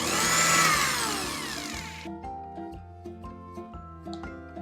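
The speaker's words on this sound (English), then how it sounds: "In the same jar, let's run the remaining anjeer also into a smooth and fine paste." A blender jar grinds dried figs (anjeer) into a paste, a loud whirring motor for about two seconds that then cuts off, followed by quieter background music.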